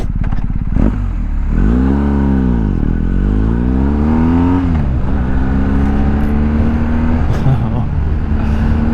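A loud, close engine running continuously, its pitch sweeping up and down as it revs and settles under a rough mechanical rumble.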